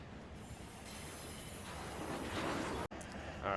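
Train pulling boxcars in the Run8 Train Simulator game, a steady rumbling roll of wheels on rails with faint squeal, continuous and fairly close, with a brief dropout near the end.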